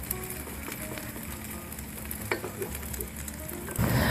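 Broccoli patties frying in a pan give a steady, close, crackling sizzle with occasional sharper pops, the hiss swelling louder near the end.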